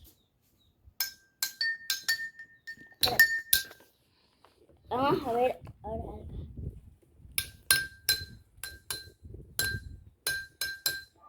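Drinking glasses are struck one after another with a hard object, giving bright ringing clinks in quick bursts, close and clear; a person speaks briefly in the middle.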